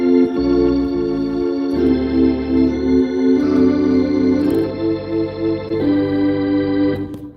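A bright, sustained drawbar organ plays a chord progression, the full harmonic tone shifting every second or so, loud and steady with no talking.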